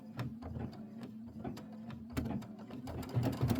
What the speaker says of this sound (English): This is 2 minutes of stitching